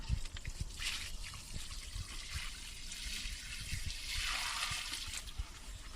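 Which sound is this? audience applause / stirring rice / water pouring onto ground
water pouring onto ground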